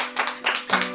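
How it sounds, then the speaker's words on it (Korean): Church congregation clapping during worship, heard as a brief close burst of hand claps in a few uneven pulses. "다시 한번 뜨거운 영광의 박수 원합니다."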